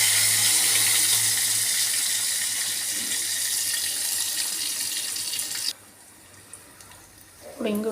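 Fenugreek leaves are rinsed under a running kitchen tap, a steady close hiss of water that stops abruptly partway through, leaving quieter room sound and a brief clatter near the end.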